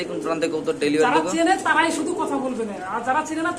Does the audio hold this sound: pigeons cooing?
yes